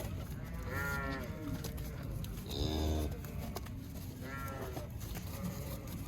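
A calf moos three times, each a drawn-out low call with a clear harmonic tone, spaced a couple of seconds apart against a quiet rural background.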